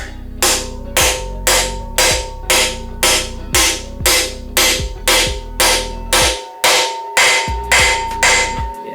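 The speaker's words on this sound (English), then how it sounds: "Put my axle bearings in. I got a bearing driver." An axle bearing for a Chevy 12 bolt rear end is driven in with a bearing driver and hammer: about sixteen loud, ringing metallic blows in a steady rhythm, close up, each one decaying before the next.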